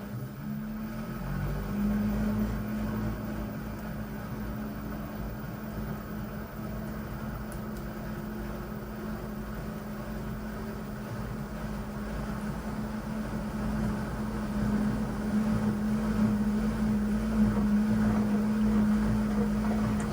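An LG WM4000HWA front-load washer tries to start its spin cycle, a steady low motor hum and drum rumble that slowly builds in strength, with no voices.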